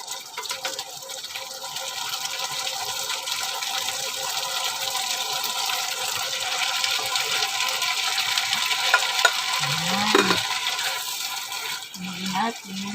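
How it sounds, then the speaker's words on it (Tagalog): Bitter gourd sautéing in a pan gives a steady sizzling hiss with stirring, while someone talks over it and a couple of brief clinks sound near the end. "Igisa muna natin ng mga ilang minutes."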